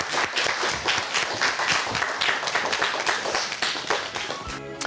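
Studio audience applauds a woman vegetable-carving master as she is welcomed to the center of a Russian TV studio set. The clapping is dense and sustained, and a brief musical tone enters near the end.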